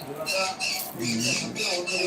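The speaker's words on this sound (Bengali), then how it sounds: "এই যে দেখো এগুলো বড়ো পাখি" Large pet birds in a bird shop give harsh, repeated squawks and chattering calls nearby, several in quick succession over a short stretch.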